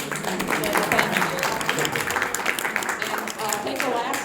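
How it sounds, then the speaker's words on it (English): Applause from the audience at the close of a talk, sustained clapping from a roomful of people, fairly loud and continuous. "Can I have another round of applause?"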